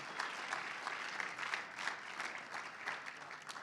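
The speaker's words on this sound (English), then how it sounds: "All right, applause, please." A summit audience at the Silicon Oasis event in Arizona applauds on cue, a continuous wash of many hands clapping, fairly distant and soft but steady from start to finish.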